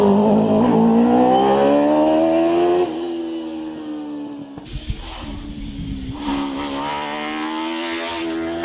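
A racing car accelerates hard on a hillclimb run at Prescott, its loud engine note rising through the gears and then easing to a steadier, lower drone with rough mechanical texture.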